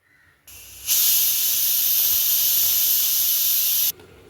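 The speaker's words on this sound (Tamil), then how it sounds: "குக்கர் மூடி போட்டுட்டு எட்டுலேருந்து பத்து விசில் விட்டுக்கலாம்" A pressure cooker cooking horse gram dal with tomatoes lets out one loud, steady hiss of escaping steam. It starts abruptly, holds for about three seconds and then cuts off sharply.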